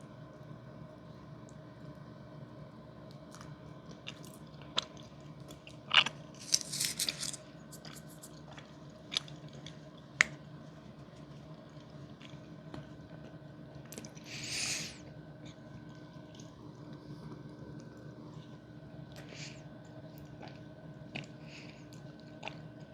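Soft, close bites and chewing on a powdered-sugar sweet, heard as scattered crisp crunches and moist mouth sounds over a very quiet hum, with a few brief louder bursts.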